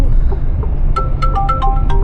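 Phone ringing for an unknown caller inside a moving car just off the motorway, a short electronic ring pattern of several bright tones starting about a second in, over steady road and engine rumble.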